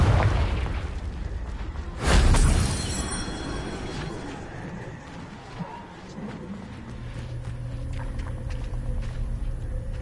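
Confringo spell explosions in the Hogwarts Legacy video game, with a loud, booming blast about two seconds in that trails into a long rumbling, crackling wash of game ambience.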